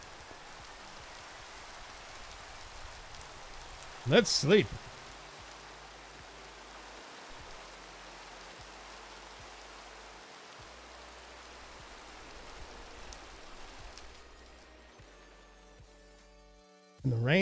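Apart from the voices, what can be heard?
rain falling in Minecraft video game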